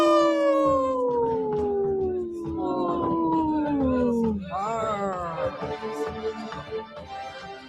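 A dog named Nikki howls loudly in long, falling, drawn-out tones, then breaks into wavering yips and whines, close and clear, heard over a radio broadcast.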